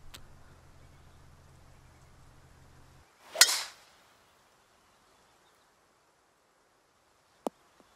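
A golf tee shot in the video game PGA Tour 2K23 lands as one crisp, sharp strike followed by a brief airy whoosh that fades out. A faint bed of ambience comes before it, and a lone tiny tick comes after a few seconds of near silence.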